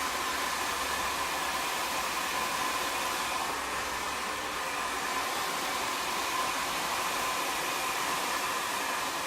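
A hair dryer blows steadily on a high setting, a loud continuous airy roar with no breaks, close by.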